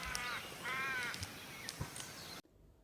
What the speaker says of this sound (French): Le kookaburra, appelé également martin pêcheur géant australien, est un oiseau sacré dans la culture aborigène.